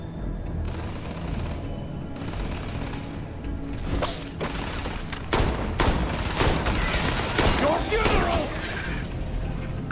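Gunfire in the video game Starfield sounds as a series of sharp shots and rapid bursts that grow denser partway through, mixed with other game noise and a voice talking.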